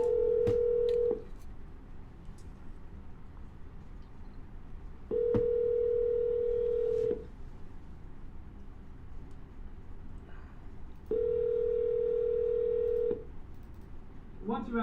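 A telephone line during a cold call sounds a flat, steady tone in three long bursts of about two seconds each, with brief dialing beeps at the start and end and quieter line noise in the gaps.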